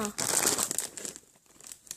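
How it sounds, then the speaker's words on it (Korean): A plastic zipper bag from a Daiso puzzle set crinkles and rustles up close as it is torn open, a dense burst of crackling that fades into lighter handling noise while a voice speaks briefly. "어, 이게 지퍼백이거든요."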